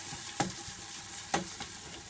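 Garlic and bay leaves fry gently in oil, a soft continuous sizzle broken by two sharp utensil clinks against the pan, close by and without speech.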